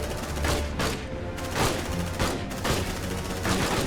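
Shotgun blasts in the sci-fi video game Aliens: Dark Descent, several loud booming shots at uneven intervals, each with a broad crack and rumbling tail, and no voices over them.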